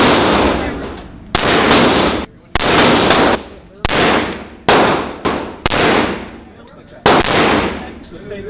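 Loud gunshots fired at a gun range, about seven sharp reports spaced roughly a second apart, each with a ringing tail, close and dominant with no talking.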